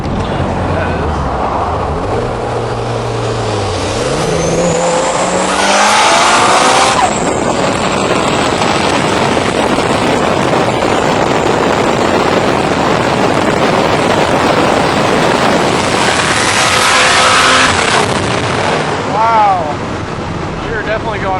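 A truck and a Suzuki GSX motorcycle drag racing past 120 mph, engines rising through gears under heavy wind buffeting, with shift breaks and a voice talking over the roar.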